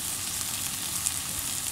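Garlic frying in a pan after onions were browned, cooked for an eggplant dish: a steady, close sizzle with fine crackling and no talking.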